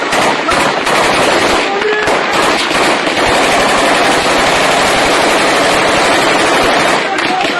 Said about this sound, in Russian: В 10:00 вновь была зафиксирована стрельба со стороны Таджикистана по территории сел